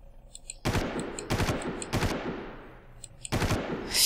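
Bursts of automatic gunfire from the Far Cry video game, four or five sharp rattling volleys spaced irregularly, loud and close, with no voices over them.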